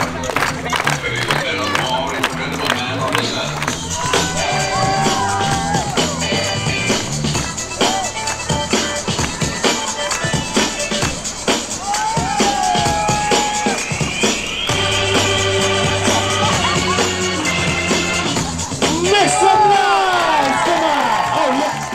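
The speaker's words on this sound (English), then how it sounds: "Everybody clap for him!" Lively crowd in Leicester Square, London, cheering, whooping and clapping for a street performer, with music and shouting voices running loudly and continuously throughout, swelling again near the end.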